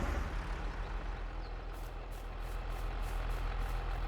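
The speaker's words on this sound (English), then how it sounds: "Left this tractor running, obviously." A tractor engine idles steadily in a Farming Simulator game, a low continuous rumble at faint level with a faint repeating hiss over it and no talking.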